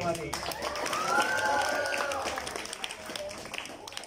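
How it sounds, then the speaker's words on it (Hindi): At an annual school sports prize-giving, a crowd claps in a broad wash of applause that swells and then thins out. Someone talks through it over a loudspeaker. "तालियां कम हो रही है, अभी तो शुरुआत है।"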